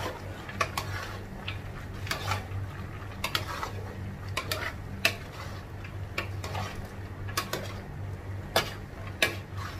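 Potatoes and carrots stirred in a pan while cooking Ilocano-style igado, giving soft, scattered clinks and scrapes of a utensil against the pan over a steady low hum, with no talking.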